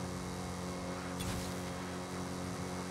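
A car in the Roblox game Jailbreak drives past, a steady mid-level engine drone with a brief louder whoosh around the middle as it goes by, fairly even and continuous throughout.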